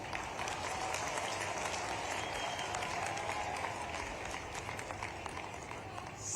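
A crowd claps continuously for several seconds at a chief minister's public inauguration and foundation ceremony in Shujalpur, a dense, even roar of applause with no voices on top.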